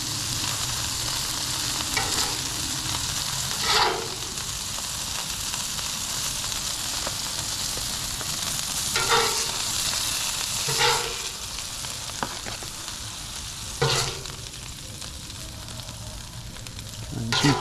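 Beef pieces sizzle and fry steadily on an outdoor griddle, a continuous close hiss with a few scraping stirs and taps of a spatula against the metal, no talking.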